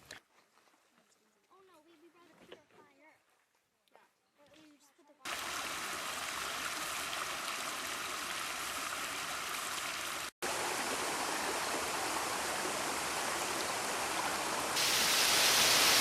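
Water rushing steadily over the Joe Lake Dam at the north end of the Canoe Lake to Joe Lake portage, a loud broadband roar that starts abruptly after a stretch of quiet speech and holds constant, briefly cut once.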